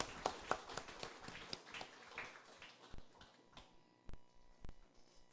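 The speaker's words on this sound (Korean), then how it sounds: "함께 우리 감사 박수 한번 할까요?" A church congregation gives a short round of thankful clapping after a sermon, scattered and fairly quiet, the individual claps thinning into a few isolated sharp slaps near the end.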